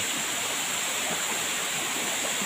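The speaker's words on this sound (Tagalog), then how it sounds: "Pagbagsak ng tubig papunta sa baba" Waterfall with water plunging down into the pool below, a steady broadband rush filling the whole clip at a constant, fairly distant level, no voices.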